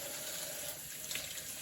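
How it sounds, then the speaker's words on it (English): Cold tap water runs steadily over freshly boiled eggs in a kitchen sink, a soft, even hiss of flowing water heard alone for a brief moment. "You run cold water over it while you're cracking the egg"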